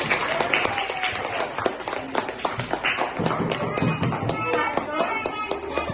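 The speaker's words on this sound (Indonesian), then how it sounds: "Tepuk tangan buat kita semuanya hari ini" Children in a classroom clap together, with sharp, uneven individual claps scattered over a busy mix of voices and movement, fairly close and lively throughout.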